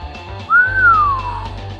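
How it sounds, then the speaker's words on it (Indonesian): A young man whistles a single clear note that rises quickly and then glides down before fading, heard alone over a low steady hum. "Yang diserang bersiul."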